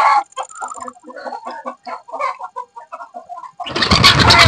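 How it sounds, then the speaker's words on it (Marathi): Turkey chicks in a farm shed give a string of short, close peeping and clucking calls in an uneven rhythm, and a louder burst of noise comes right at the end. "शेड मध्ये ते हे बघू शकता टर्की पिल्ले आहेत काही त्यांच्याकडे"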